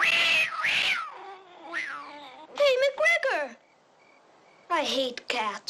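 A cat meows repeatedly, with several drawn-out, wavering cries in bursts separated by short pauses, close and clear.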